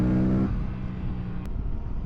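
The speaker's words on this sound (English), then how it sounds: "And this gearbox just sounds rowdy, man." An Aprilia RS 457 sport motorcycle engine revs briefly then drops into a low, rough rumbling idle, close and steady.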